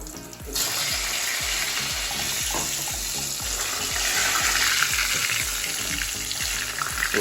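Green plantain frying in hot oil, Jamaican style: a loud, dense, continuous sizzle and crackle held close for several seconds, with repeated low knocks underneath and no talking.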